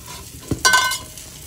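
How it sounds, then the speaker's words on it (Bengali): Eggplant slices in a frying pan give a brief scrape of a utensil followed by a short burst of hot-oil sizzle that fades within half a second, with no voices. "বেগুন ভাজা হয়ে গেছে"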